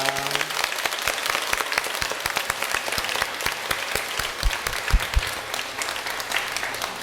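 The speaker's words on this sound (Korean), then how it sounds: "축하하는 마음으로 큰 박수 부탁드립니다" A church congregation applauds after a baptism, a steady burst of many hands clapping that fills the room, with a few louder individual claps standing out near the end.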